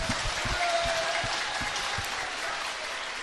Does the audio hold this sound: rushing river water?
no